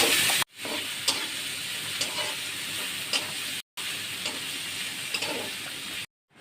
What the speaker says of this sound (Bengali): এখন আমি পেঁয়াজ রসুনগুলো দিয়ে লাল লাল করে প্রথমে ভেজে নেব